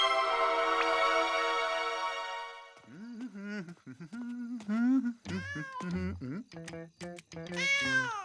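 A cartoon kitten meows repeatedly, with high, rising and falling tonal cries in quick succession, close and clear, following a sustained musical tone at the start.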